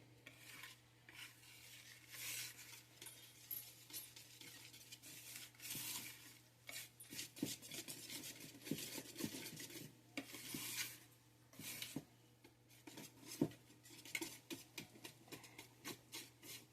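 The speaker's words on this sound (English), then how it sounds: "I'm just going to do it with a whisk today because it's pretty easy." Cake batter for a coconut pineapple upside-down cake is whisked by hand in a bowl, making quiet, rapid, uneven scraping and tapping strokes that come in bursts over a low steady hum.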